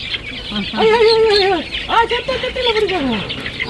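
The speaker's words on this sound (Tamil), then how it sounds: "புள்ளி கோழி வருது" A spotted hen gives loud drawn-out clucks and squawks nearby, a few separate calls rising and falling over a faint outdoor background.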